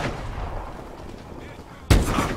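Gunfire from Call of Duty: Advanced Warfare, a muffled, continuous rumble of distant shooting that jumps to a loud, close burst near the end, under game ambience with no speech.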